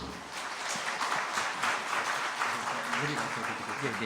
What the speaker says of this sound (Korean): 우리 뜨겁게 박수로 환영하도록 하겠습니다